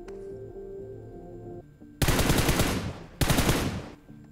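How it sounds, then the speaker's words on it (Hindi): Gunfire from the battle royale game BGMI: two loud, dense bursts of automatic fire, each lasting about a second with a short gap between them, following quieter in-game ambience and music, with no talk. "खैर मैंने उस बंदे के ऊपर फायर करके गलती कर दी"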